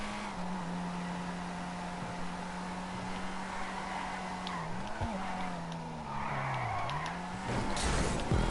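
A Weeny Issi Classic car in Grand Theft Auto 5 drives with a steady engine drone, its pitch wavering as the tires skid and squeal through slippery turns, rising into louder screeching near the end.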